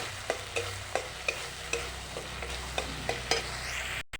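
A spice paste for rohu fish fries in a pan on a veranda while a spoon stirs it. Regular scraping knocks about every half second ride over a low, close sizzle.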